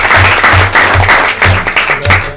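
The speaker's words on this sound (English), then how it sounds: "Round of applause for these guys." An audience at a school board meeting breaks into a short round of applause, loud and close, with uneven clapping bursts over about two seconds and no speech on top.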